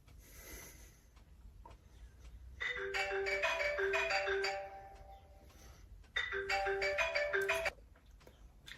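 A mobile phone left behind rings with two bursts of a bright repeating electronic ringtone melody, each lasting a second or two with a pause between, fairly quiet in a still room.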